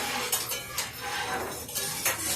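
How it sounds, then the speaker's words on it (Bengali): Vegetables are stirred in a cooking pot, with repeated metallic scrapes and clinks of a utensil against the pan over a dense background of cooking noise. "তো এই যে এখন আমি এগুলো নাড়াচাড়া করছি"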